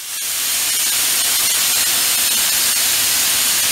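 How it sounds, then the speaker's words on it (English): Compressed air hisses steadily and loudly from a Harbor Freight 8-gallon air compressor as it drains, a continuous close rush of air with no break. "I'm going to go ahead and drain the compressor"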